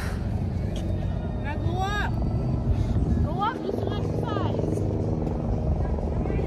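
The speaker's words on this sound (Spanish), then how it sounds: "Ahí viene el helicóptero, allá." A helicopter flies overhead on a cold day outdoors in Chicago, its steady engine and rotor roar filling the air while people's voices rise and fall over it.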